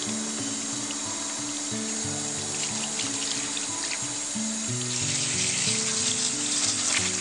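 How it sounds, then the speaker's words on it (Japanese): Running water from a tap splashes and pours while an aquarium layout is rinsed out during teardown, a close, continuous gushing with fluctuating spatter and a faint hum beneath, no voices. "さらに洗い流そう。"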